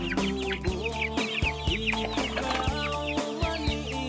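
Brahma and native chickens clucking steadily around a farmyard, with repeated short clucks and calls overlapping close by, no talk.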